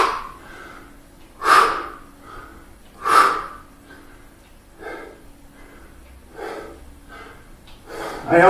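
During a squat exercise in a circuit training session, a person exhales forcefully several times. The loud, close breathy bursts come roughly every one and a half seconds, with softer breaths in between.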